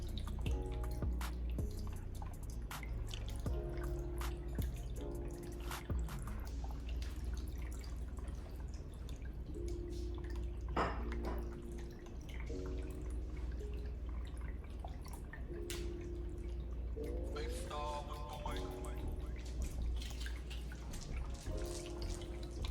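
Water from an Ashland tabletop fountain bought at Michael's trickles and drips steadily and close by, a continuous gentle burble with no one speaking.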